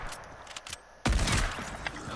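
A no-scope headshot gunshot in Fortnite cracks once, loud and close, then decays into a burst of noisy echo over quieter game sounds.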